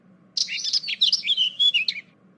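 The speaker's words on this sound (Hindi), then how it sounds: "ये आवाज असली हरियल तोते की ही है।" Green parrots calling from behind a tree: a burst of sharp, squawking chirps lasting about two seconds, close and clear over a quiet background hum.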